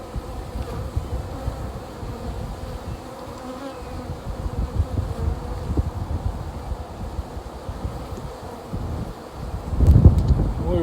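Honeybees in a large hive hum and buzz continuously as they build comb, a dense close drone with some wind rustle and a louder swell near the end.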